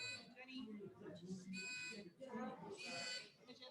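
Quiz buzzers being tested, bright electronic tones sounding in several separate bursts over a noisy room with people talking.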